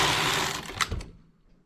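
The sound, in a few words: knitting machine needle being worked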